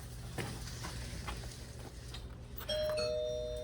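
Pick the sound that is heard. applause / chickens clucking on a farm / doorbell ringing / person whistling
doorbell ringing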